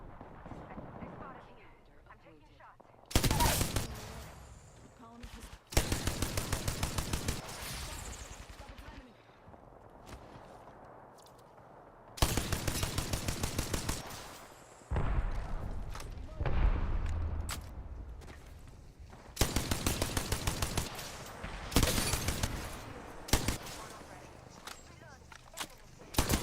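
Apex Legends gunfire comes in loud, rapid automatic bursts separated by quieter gaps, several sustained volleys of close weapon fire over a low ambient background.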